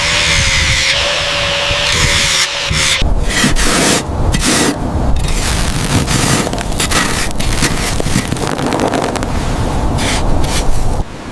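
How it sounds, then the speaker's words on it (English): Rust being ground off the frame rails of a 1970 Dodge Charger R/T recovered from the sea, a loud, continuous abrasive roar with harsh grinding and brief pauses and shifts throughout. "Grinding rust from the frame rails."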